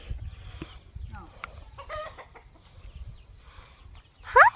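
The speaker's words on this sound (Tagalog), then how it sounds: "Nandito na po yung manok." Brief, faint clucks from chickens amid a quiet, rustling background, with a louder squawk near the end.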